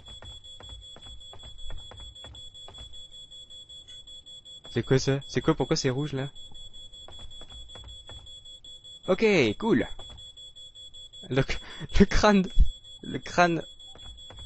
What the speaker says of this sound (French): j'entends un bip là, ça vient d'où ça?